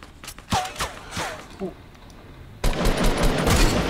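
Gunfire in the Fortnite video game: a few sharp shots and short bursts early on, then a dense, loud stretch of rapid automatic fire toward the end, with a voice briefly audible.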